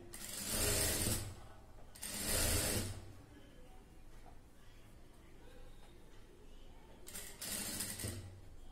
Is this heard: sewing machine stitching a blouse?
yes